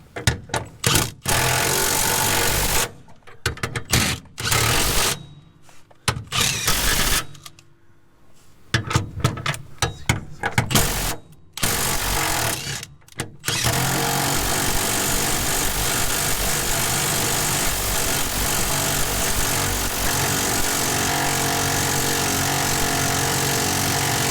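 A power tool tightening subframe bolts during a car subframe and suspension install makes repeated loud, choppy bursts of whirring and rattling, then a long steady run of noise to the end.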